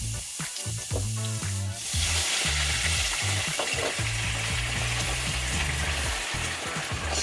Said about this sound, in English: now we add the wine